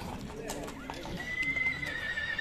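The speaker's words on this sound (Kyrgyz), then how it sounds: "азыр базардын эң алдыңкы чоң аты ушул" A horse at a livestock market neighs and whinnies over clip-clopping hooves, close and fairly loud, with people talking and crowd noise throughout.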